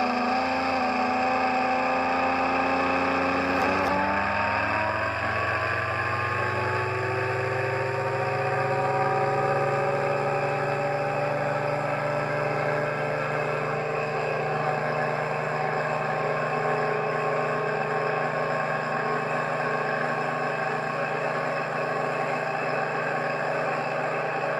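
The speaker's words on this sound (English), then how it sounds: "I'm going to hold the motor on the table, so it's going to be noisy at first because the motor's resting on the table." An electric motor runs while resting flat on a table during a vibration and balance test, with a rattly start that settles into a steady loud hum and whine as it holds speed.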